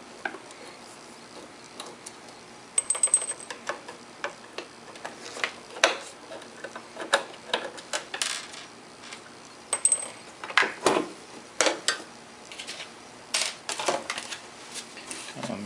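Phillips screws being removed from the side of a DBX 266XL compressor, a string of sharp metallic clicks and light taps at uneven intervals, close and crisp with quiet gaps between.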